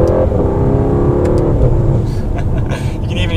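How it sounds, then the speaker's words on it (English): A 2019 Mercedes-AMG GT 63 4-door accelerates hard with a loud, rising engine roar, then turbo blow-off valves release in brief hissing bursts as the revs drop, heard from inside the car. "Hear the turbo, the blow valves going off."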